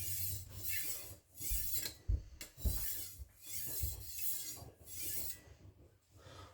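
A knife blade is drawn across a fine sharpening stone in steady, repeated strokes, a quiet gritty rasp rising and falling about once a second with small knocks between passes.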